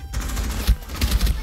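Rapid gunfire in an online shooter video game, with a dense burst of loud shots and heavy low thumps running through the whole moment.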